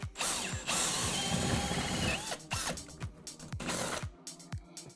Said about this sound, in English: I kind of angle the drill bit downward a little bit and I'll just drill.